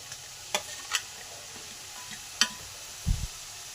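Chopped okra tossed into potatoes frying in a pan, heard as a quiet sizzle under a few sharp clinks and scrapes from a spoon, ending in a short, heavier stirring thud.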